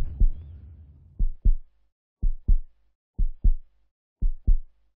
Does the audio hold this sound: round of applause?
no